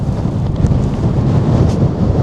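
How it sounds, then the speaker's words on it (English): Strong wind buffets an open, exposed site beside a lake on a former nuclear test range, roaring steadily with low rumbling gusts for a couple of seconds, with no voices. "It's so windy."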